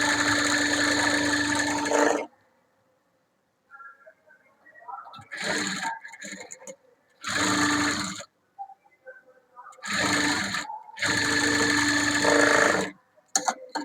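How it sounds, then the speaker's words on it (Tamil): An electric sewing machine stitches a blouse band in several loud, close bursts of whirring stitching, broken by pauses with quieter handling and some talking. "இதுக்கு மேலே ஒரு தையல் போட்டுக்கலாம்"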